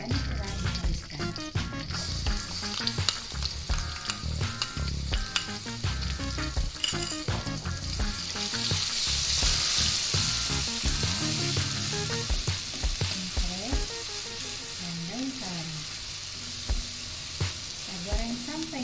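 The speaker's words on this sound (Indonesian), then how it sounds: "Panas, kita goreng bumbu yang tadi telah dihaluskan." Ground spice paste frying in hot cooking oil for a cassava-leaf and anchovy coconut stew, a steady loud sizzle with stirring scrapes throughout, swelling brighter midway as the paste cooks.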